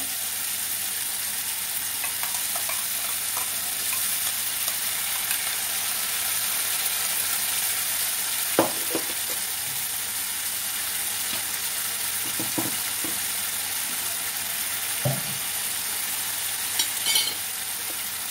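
A faint steady sizzle of masala paste and tomato paste frying in a pan for jackfruit curry, with a few soft clinks and stirring scrapes scattered through the long stretch, no talk.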